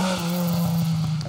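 A historic Ford Escort Mark 1 rally car on an asphalt stage of the 2023 Argyll Rally holds a steady, loud engine drone throughout a brief pass.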